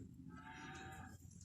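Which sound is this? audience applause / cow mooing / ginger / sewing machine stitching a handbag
cow mooing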